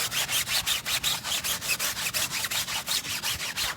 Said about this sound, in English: So scrub that real quick.